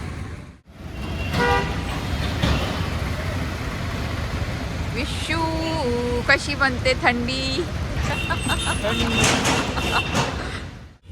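Auto rickshaw ride through cold evening traffic in Amritsar, bound for the Golden Temple, with repeated horn toots from nearby vehicles and a steady engine rumble beneath people talking throughout.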